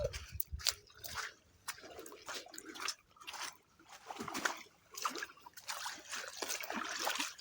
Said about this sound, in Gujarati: અમારા રસ્તામાં આવું પાણી છે,